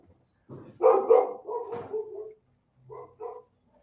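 A small dog barks and yips in a short burst of several sharp calls, then a couple of softer barks after a pause, fairly close indoors during a household interview.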